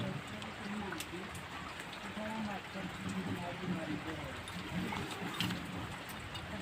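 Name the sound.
rain falling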